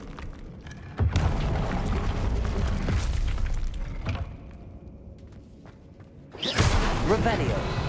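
The Confringo explosive spell in the video game Hogwarts Legacy lands as sharp booming blasts, one near the start and a louder one toward the end, over a rumbling game soundscape with voices.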